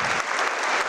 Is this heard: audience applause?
yes